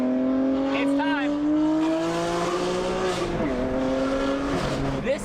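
BMW F87 M2 Competition with its S55 engine, equal-length exhaust and free-flow downpipes drives past, giving a smooth, steady exhaust drone whose pitch climbs and then dips as the car moves, with a brief chirp-like squeal near the middle.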